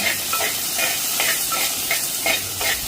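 Garlic and green chillies sautéing with salt in a pan, a bright steady sizzle with regular stirring scrapes, close and loud, no voices.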